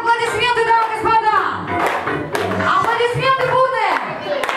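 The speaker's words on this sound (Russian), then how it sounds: "Итак, аплодисменты, дамы и господа." Wedding guests clap together in a fairly close room, steady rapid applause running throughout beneath loud talk and a few raised voices.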